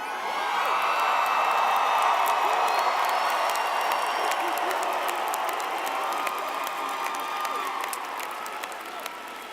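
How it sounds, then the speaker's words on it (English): A college commencement crowd bursts into loud sustained applause and cheering, with dense clapping, whoops and shouts filling a large hall and slowly tapering off. "This is officially the loudest crowd we've ever had."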